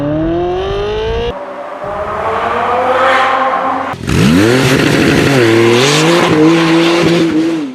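A 2018 BMW M2 Competition with a Tubi Style exhaust revs hard in loud, rising and falling engine sweeps over several cut-together passes, close and aggressive with no talking.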